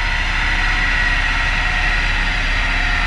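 Turbocharged VW G60 engine making 0.9 bar boost, running steadily and loud with a dense, continuous mechanical roar and broad hiss, close up, no talking.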